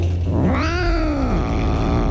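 A cat lets out a single drawn-out yowl that rises and falls, loud and close over a low background hum.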